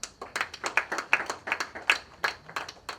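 Audience at an African writers' day celebration claps for an honoured author, a steady run of sharp, close handclaps with a bright, crackling texture that keeps going without a pause.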